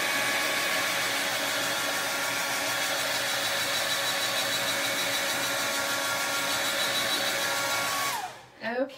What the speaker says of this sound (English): I'm going to hit this with the blow dryer now